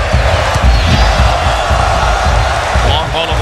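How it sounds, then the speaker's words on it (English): Passionate home crowd filling Cuscatlan Stadium in El Salvador during a World Cup qualifier against the USA, a steady loud roar of massed voices with scattered shouts and whistles, continuous throughout under commentary. "We talk about the crowd here and how passionate, how energized they are."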